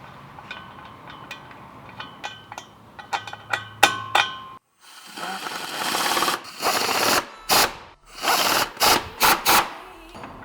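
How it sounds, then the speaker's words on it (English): Bolts on the U-straps of the front drive shaft U-joint are tightened on a BMW E30 with an LS2 swap. A ratchet clicks in quick close bursts, and then a power tool whirs loudly in several short runs. "going to fully tighten these U-strap bolts on the front U-joint"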